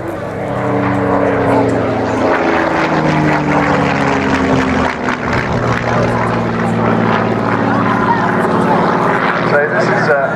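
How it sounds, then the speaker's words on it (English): A Spitfire propeller fighter flies past at the RAF Cosford air show, its loud engine drone rising and falling throughout while a commentator speaks over the public address. "You're looking at a former Air Cadet flying that Spitfire."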